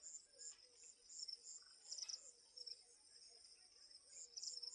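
Crickets chirp steadily in a quiet rural spot. The high, pulsing trill is faint and continuous, with a few soft bird calls mixed in and no voices.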